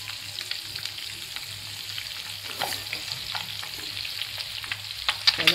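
Eggs frying on a tawa griddle give a steady close sizzle with scraping and stirring clicks, no talk.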